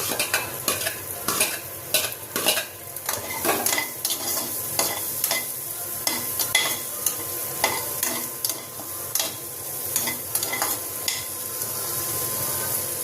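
A large onion sautés in butter with a little oil, a constant sizzle under frequent rhythmic scraping and tapping of a spoon against the pan.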